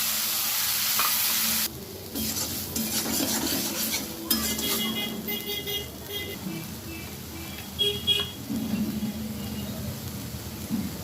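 A pan of freshly fried potatoes gets ginger-garlic and onion paste, and a loud hissing sizzle eases slightly as the paste goes in, then continues with a spatula scraping and clinking against the pan.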